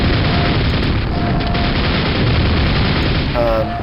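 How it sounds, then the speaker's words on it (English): In Quake, on nightmare difficulty, a nail gun fires in a dense, continuous rattling stream, loud and close, layered with booming combat noise and occasional speech. "basically you have to kill him with this kind of crappy nail gun."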